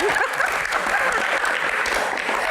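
An audience at a football Q&A session breaks into applause, a dense, sustained patter of many hands at moderate level that fills the moment.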